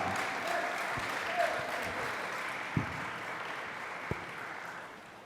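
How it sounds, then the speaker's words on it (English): An audience at a congressional town hall on affordable banking applauds steadily for a guest speaker, a dense, even wash of clapping that holds throughout and slowly fades toward the end, with a few sharper knocks or thuds standing out briefly. "Give a big round of applause for Mr. Rohit Chopra."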